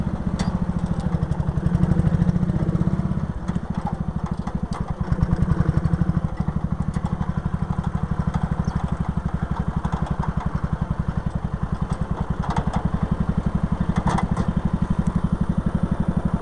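A firetruck flatbed's engine runs in high range. A loud, close, steady chugging drone pulses evenly throughout, with no voices.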